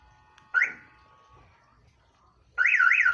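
A Commuter Deluxe car alarm chirps briefly when lock is pressed, then a loud, close, warbling siren starts up and cycles steadily, with quiet background between.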